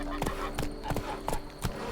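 Roach the horse gallops in The Witcher 3, five distinct heavy hoofbeats landing in a steady rhythm, close and clear over a low game backdrop.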